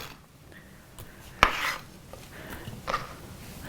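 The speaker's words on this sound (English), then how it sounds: "A lot of chopping in here today." Food being chopped on a board in a home kitchen: a sharp knock, then a scattering of quieter cuts and a second cluster of knocks, close and alone without voices.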